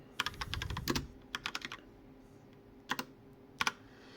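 Keys tapped on a computer keyboard while a place name is entered into a QGIS field, coming as short bursts of clicks with pauses between them, close and fairly quiet, with no voices.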